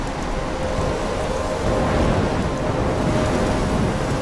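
A thunderstorm in the video game Life is Strange: a dense, steady roar of rain with a low rumbling undercurrent that swells slightly halfway through, constant and close, with no voices.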